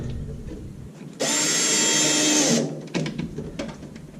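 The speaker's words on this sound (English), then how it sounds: "So we'll just screw that in now." A power drill whirs for about a second and a half as it drives in a screw while building a quail hutch feeder, followed by light clicks and handling noises.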